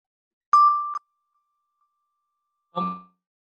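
Two bright synthesized xylophone-like notes from a kids' coding app, the first ringing about half a second and the second shorter a few seconds later, clean and isolated with silence between.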